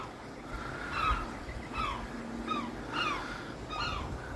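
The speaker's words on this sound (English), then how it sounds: "So crazy to hear seagulls." Seagulls perched on a chimney top call in repeated short, rising cries, distant and fairly faint, over a low outdoor background hum.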